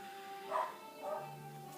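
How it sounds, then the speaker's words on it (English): Two muffled barks from a dog somewhere away from the listener, spaced about half a second apart over a low steady hum. "I apologize if you guys hear barking in the background"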